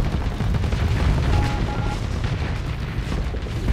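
Spaceship weapons firing in the space combat game Starsector, a dense, continuous barrage of booming, explosive blasts and rapid shots that roll on loudly without pause.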